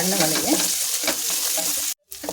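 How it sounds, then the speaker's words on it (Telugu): Onions and curry leaves fry in oil with a loud, steady sizzle and quick stirring scrapes, ending in a brief silence before the frying resumes. "కొంచెం ఉల్లిపాయలు వేపడమండి కొద్దిగా నూనె వేస్తున్నాను వేసుకుంటాము కరివేపాకు ఉల్లిపాయలు"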